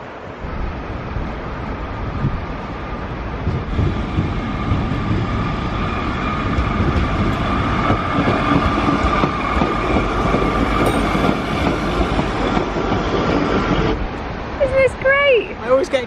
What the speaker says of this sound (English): Excited by trains.